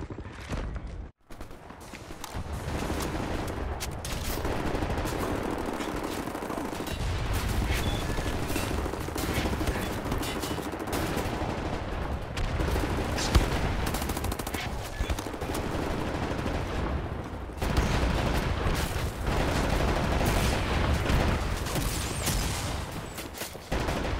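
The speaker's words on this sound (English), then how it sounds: "Right, lads, you ready to lay down suppressor fire?" Continuous heavy gunfire during suppressive fire in the shooter Wolfenstein: The New Order, dense overlapping rapid shots and bursts that keep going loud and unbroken for a long stretch.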